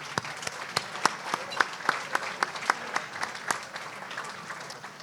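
Audience at the 2024 IAPD Best of the Best Awards Gala applauds board members, with sharp, close individual claps punctuating a soft bed of crowd clapping that gradually thins and fades toward the end.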